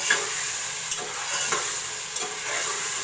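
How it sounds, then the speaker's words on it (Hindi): Mutton frying in a pan for dhaba-style shalgam gosht makes a dense, even sizzle close by, with a few soft stirring knocks scattered through the short stretch and no talking. "गोश्त अच्छे से फ्राई हो गया"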